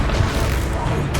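A Confringo fire spell blast in the video game Hogwarts Legacy, heard as a dense, continuous, booming rush of noise through the whole short moment.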